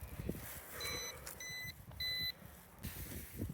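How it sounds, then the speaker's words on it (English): A few short, high electronic beeps from a Ruko F11PRO 2 drone remote control connecting sound one after another over quiet outdoor background noise. "Wait for it to beep. It should be connecting."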